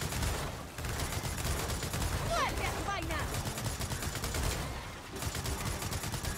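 Gunfire in the video game Gears of War 4: a dense, continuous wall of rapid shots and bursts, steady and loud throughout, with only brief dips.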